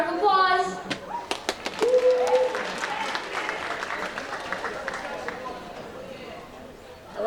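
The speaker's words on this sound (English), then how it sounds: "So let's give her a round of applause." An audience at a seasonal reading performance gives a short burst of clapping that fades into scattered claps, with voices talking and a voice in the room.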